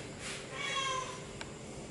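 A cat meows while a dog teases it indoors, several short meows near and moderately loud over a steady background hum.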